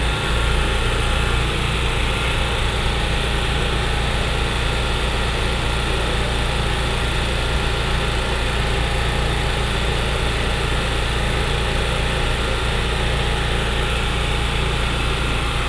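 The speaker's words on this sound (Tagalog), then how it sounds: "Ang ingay dahil sa generator eh." A generator engine runs steadily nearby with a constant loud droning hum and buzz that does not change, in an outdoor setting with no voices heard.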